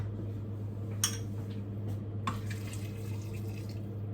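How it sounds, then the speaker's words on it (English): Hot water from a kettle is poured into a pot of vegetable soup, starting after a couple of sharp knocks and running as a soft, steady splashing trickle over a constant low kitchen hum, with no talking. "I am going to add some more water. I'll do hot water from the kettle."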